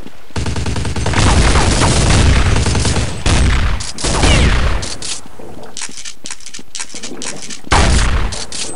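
Dense, loud bursts of automatic gunfire in the video game Counter-Strike 1.6, rapid overlapping shots filling most of the stretch with brief gaps, heard alone without talk.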